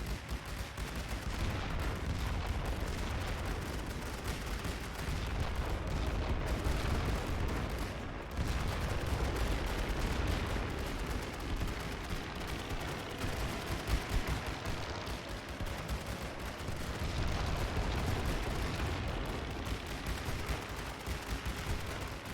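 Dense, continuous battlefield din of gunfire and grenade blasts in The Great War Western Front game, a thick roar of overlapping shots and booms without pause.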